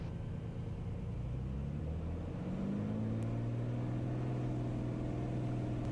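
A small airplane's piston engine runs up to full power for takeoff, a steady close droning rumble whose pitch climbs smoothly as the revs build, with no voices.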